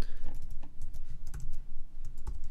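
Rapid clicking of keys on a computer keyboard while code is entered, a steady close run of light taps with small pauses, heard alone without talk.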